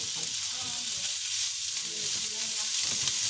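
Chopped chorizo and onions frying in a pan, a dense continuous sizzle and crackle of hot oil, steady and close throughout.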